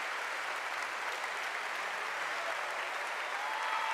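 A crowd at a FIBA U18 Women's EuroBasket basketball game in La Palma applauds a team on the podium, with steady, dense clapping filling the hall throughout.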